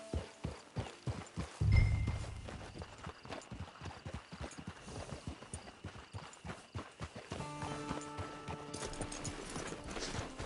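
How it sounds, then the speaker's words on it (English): Horse hooves clip-clop at a steady walking rhythm in Red Dead Online, close and distinct, with a heavier thump early on and a soft tonal game score rising beneath near the end. "Get your horse."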